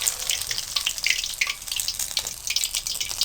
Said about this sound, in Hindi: अब आपने इनको सिर्फ 1 मिनट के लिए फ्राई करना है और इनको निकाल लेना है।